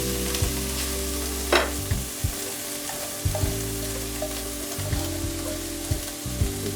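Chopped onions fry in a pan with green chili and curry leaves for chickpea curry, a steady sizzle broken by recurring spatula knocks and stirring scrapes, close and clear.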